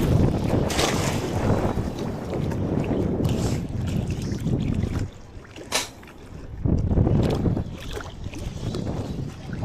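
Steady, heavy wind buffeting a microphone outdoors, mixed with the broadband rush of a boat moving over water, dipping briefly midway.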